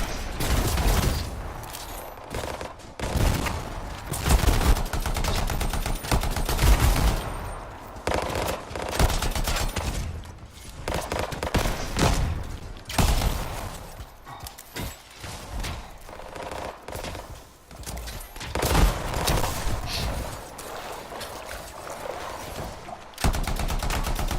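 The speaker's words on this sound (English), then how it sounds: "Really hard to make a headshot in this game. You just keep shooting." Sustained gunfire in the video game Anthem, long bursts of automatic shooting broken by short pauses, loud and close across the whole stretch with battle noise between volleys.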